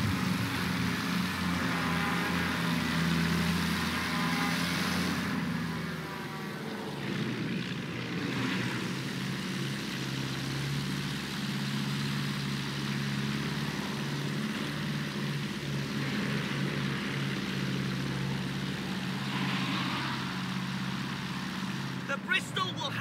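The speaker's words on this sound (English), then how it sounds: "Bristol will handle like the other planes." Bristol fighter biplane propeller engine in the World War I shooter game Battlefield 1, a steady droning roar that swells and eases with throttle for over twenty seconds, with someone talking over it.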